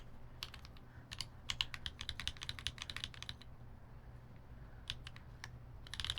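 Mechanical keyboard fitted with TX UXL switches, typed on in quick bursts of crisp, close keystrokes with short gaps between runs and a low steady hum underneath.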